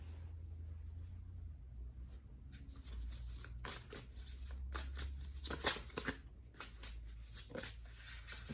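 Tarot cards being shuffled and drawn, a series of soft, quick riffling and flicking bursts in the second half, close and fairly quiet over a low background hum.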